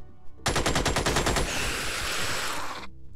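Sustained automatic gunfire from the Xenonauts strategy video game, a loud rapid burst of individual shots running into a continuous roar for over two seconds before cutting off abruptly.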